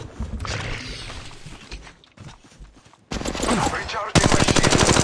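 Rapid automatic gunfire rattles in the Apex Legends video game, loud bursts close up with a brief pause, alongside game sounds and voice lines.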